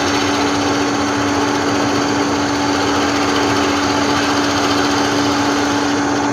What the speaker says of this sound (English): I've freshly sharpened the gouge, so we should cut it a bit better maybe